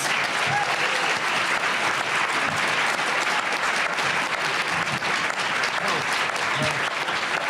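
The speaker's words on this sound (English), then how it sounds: "let's give a warm round of applause to all of our candidates" Sustained, full-room applause from the audience at a women's forum for Illinois Democratic gubernatorial candidates, loud and evenly dense throughout with no pauses.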